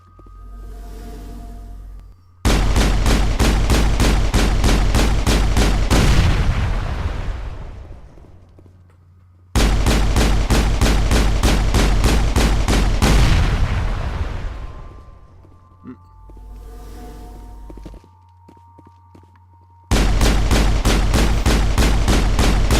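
Sustained automatic gunfire from the video game Mass Effect, rapid rattling bursts lasting several seconds each with quiet gaps and tails between them, loud and close with no talk over the shots.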